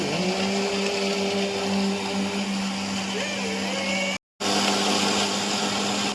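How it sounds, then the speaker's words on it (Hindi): An electric mixer grinder whirs continuously while blending a paste, a loud close steady drone that cuts out briefly and starts again, with faint voices underneath. "चलियो मिक्सी हो गई चालू।"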